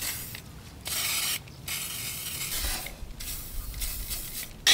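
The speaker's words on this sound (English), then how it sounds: "So I dry them first, and then I spray WD in the injection." WD-40 aerosol sprayed into a car engine's injection area after the race, giving repeated hissing bursts of spray, close up and steady, with short gaps between them and no talking.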